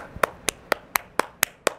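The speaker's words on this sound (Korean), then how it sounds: "박수 한번 치고 가실게요" Hand clapping: seven sharp, evenly spaced claps in a steady rhythm, close and loud with no talk over them.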